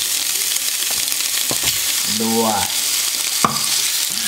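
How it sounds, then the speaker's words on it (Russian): Steady sizzling of steak frying in a hot pan, a constant crackling hiss with a brief voice and a couple of clanks over it. "Жарим это все в зависимости от прожарки"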